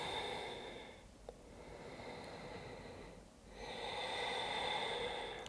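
Slow, deep breaths during a yoga stretch, a long airy inhale and exhale that swell and fade twice, heard close and soft over a faint steady background hum.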